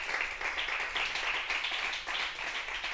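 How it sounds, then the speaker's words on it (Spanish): A congregation in a church setting claps in praise, a dense, rhythmic patter of many hands in steady pulses, fairly close and continuous, with no speech over it. "Den unas fuertes palmas al Rey de Reyes"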